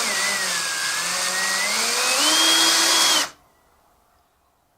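A power drill whines steadily while backing screws out of an RV air conditioner's cover panel, a loud continuous motor tone that shifts pitch slightly as it loads, then stops abruptly into near silence.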